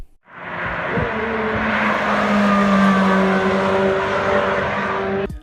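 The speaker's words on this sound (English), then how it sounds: "the engine is much whinier than the classic pushrod engine" A Chevrolet Corvette C8 Z06 engine revs hard, a loud close whining roar that climbs and holds for several seconds before cutting off abruptly, with no voices over it.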